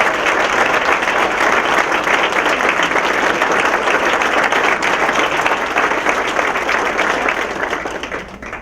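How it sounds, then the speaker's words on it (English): Sustained applause from a large dinner crowd at a chamber of commerce annual dinner, dense and steady clapping at full volume that tapers slightly toward the end. "let's please give them a round of applause"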